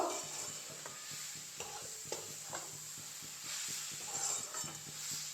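Laddu mixture being stirred in a pan after cardamom powder is added, a soft steady sizzle with scraping strokes and faint clinks, close and continuous with no talk.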